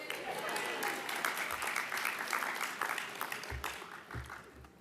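Audience applause during a professional association's conference opening address, a moderate burst of clapping that thins out toward the end with some low voices mixed in.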